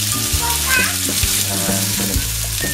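Onions browning in a pan for an Assamese tangy fish curry with ridge gourd, a steady sizzle and fry that runs throughout, with a humming background tone and a few spoon knocks.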